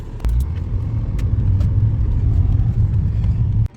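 A 2004 BMW E46 with a faulty DISA valve drives along with a steady low engine rumble and road noise, starting after a thump and cutting off abruptly at the end.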